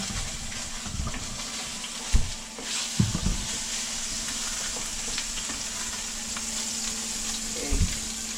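Salmon fries in a pan for a creamy garlic butter Tuscan dish, giving a steady close sizzle with a few louder crackles and stirring knocks, and no voices.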